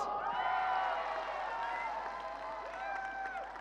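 A large crowd at a corporate global event hall cheers and shouts in a sustained roar, with scattered clapping mixed beneath the voices, loud and reverberant throughout.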